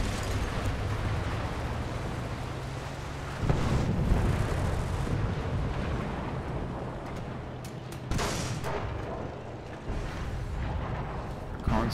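Bomb blasts in the War Thunder tank battle, heavy booming bursts at about 3.5 and 8 seconds rising over a constant rumble of engine and gunfire, with a voice talking now and then.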